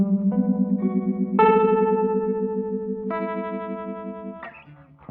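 A guitar runs through a Sparks analog harmonic processor set to harmonic tremolo, with the envelope pushing the LFO rate up. Sustained, shimmering chords change several times and fade near the end, with no talk.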